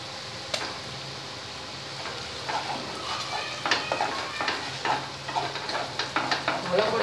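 Oil sizzles in a pan while Bengali bhetki fish kalia cooks, ahead of adding onion paste; a steady close frying hiss is punctuated by frequent utensil scrapes and clinks that grow busier toward the end.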